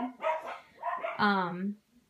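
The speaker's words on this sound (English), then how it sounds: "And I apologize for the dogs in the background." Several dogs bark and yip indoors behind a speaker, with a few sharp, fairly loud barks in quick succession and a whining bark near the end.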